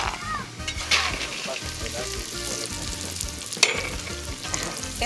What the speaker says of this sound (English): she put in some oil into the clay pot and then she's just frying the almonds